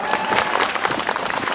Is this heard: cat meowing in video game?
no